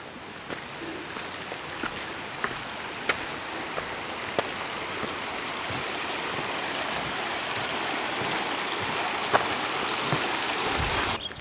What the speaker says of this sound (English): We must get some major flooding here at Rafferty Creek.